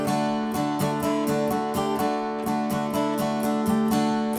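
An acoustic guitar strums a song with an even, straight strum, loud close strokes landing at regular intervals in a rigid beat, with no voices.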